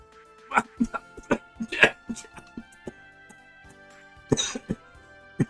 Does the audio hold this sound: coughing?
yes